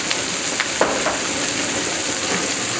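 Fried rice ingredients sizzle steadily in a hot pan, a close, continuous frying hiss with faint pops and light ticks of the utensil.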